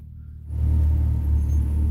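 A Can-Am off-road vehicle engine rumbles in on a deep, low drone that rises from near silence and holds steady and loud, close by, on a rocky trail in Moab.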